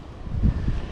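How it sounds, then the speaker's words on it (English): Gusty outdoor wind buffets the microphone during a bicycle ride in Japan, a low rumbling roar that swells in the middle and stays steady, with no speech. "It's just so windy everywhere."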